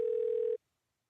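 A steady telephone dial tone sounds alone for about half a second before a call, then cuts off abruptly into silence.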